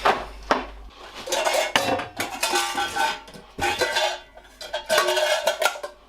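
Metal camping cook-set pots and pans knocked and stacked together while being packed, giving loud, close clanks and rattling clinks in several bursts, with no talking.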